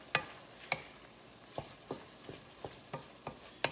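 Meat and pepper stirred in a hot frying pan, with spoon or spatula scrapes and clicks at an irregular pace, about eight or nine distinct strokes over a faint sizzle, close and fairly quiet.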